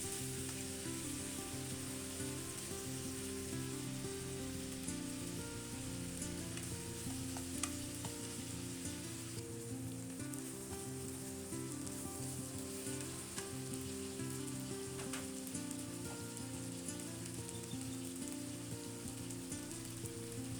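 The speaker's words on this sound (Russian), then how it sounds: "хорошо перемешиваем и на медленном огне тушим, пока лук не станет прозрачным" Onion stews in a pan over low heat, giving a constant gentle sizzle with a faint low hum and occasional soft clicks of stirring, with no one speaking.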